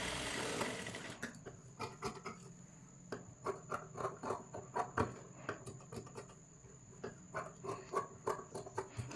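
A sewing machine stitches the neck onto a kids' jumpsuit in short, uneven bursts of rapid needle clatter separated by brief pauses, fairly close and without speech.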